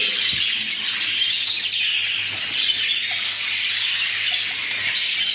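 Dense, continuous squawks and chirps from several pet cockatiels at once, loud and close, with no talking.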